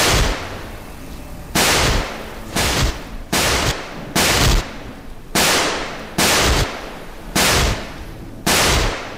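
Nine loud gunshots from the video game Raver: Bliss in Bloodshed, fired one at a time at a slow, uneven pace, each a sharp crack with a short tail, after a quiet opening second.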